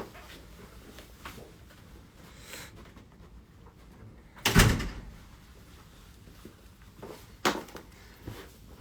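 An indoor door shuts with one firm thud midway through, followed a few seconds later by a softer knock or latch click, over a quiet room.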